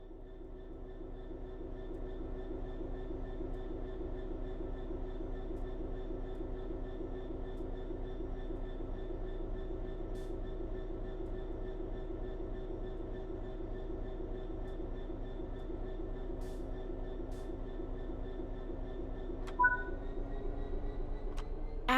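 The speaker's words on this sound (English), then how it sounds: "Apply some throttle to get the train moving." An electric train in Train Sim World 3 begins to move, a quiet steady hum of traction motors with faint rising tonal whine and soft mechanical clicks, including a brief sharp knock near the end, under no talk.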